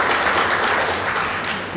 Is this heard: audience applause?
yes